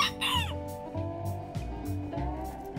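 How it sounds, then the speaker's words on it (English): A rooster crows close by, loud and drawn out, with clucking fowl sounds repeating throughout. "that rooster would crow at all times of the day and night"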